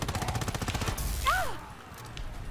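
Rapid automatic gunfire rattles in Call of Duty: WWII, a fast, close burst of shots lasting about a second, followed by a sweeping whine and quieter game ambience.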